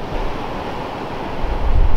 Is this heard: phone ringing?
no